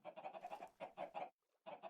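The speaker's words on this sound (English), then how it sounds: "And yes, there are chickens up here." Chickens in Minecraft cluck in quick repeated bursts, a soft rapid chatter that pauses briefly and resumes, fairly quiet and without talking.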